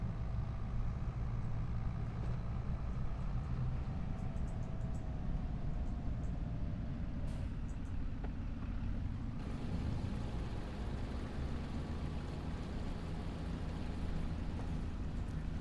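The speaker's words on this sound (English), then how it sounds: "Zetor, very basic this tractor." A Zetor tractor engine drones steadily in Farming Simulator 25, a low continuous rumble with a faint rising whine partway through, heard alone and fairly quiet.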